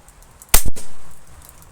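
A single sharp shot from a CZ 457 Varmint .22LR rifle cracks loudly up close in rain and wind, followed by a short echoing tail fading out across open space.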